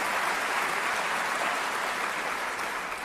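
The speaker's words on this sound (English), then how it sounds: "Applaud for yourselves" Audience at the 2019 International Bluegrass Music Association Awards Show applauding, a dense, even wash of clapping from many hands that holds steady from start to finish.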